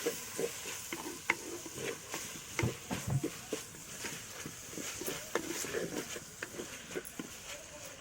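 Tomatoes and green chillies sauté in a pan for fish kulambu, a low steady sizzle broken by frequent spatula stirs and scrapes, close but fairly quiet.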